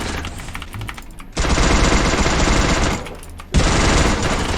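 Bursts of automatic gunfire in the Free Fire video game, two long loud rapid strings separated by a short pause, preceded by quieter game sounds.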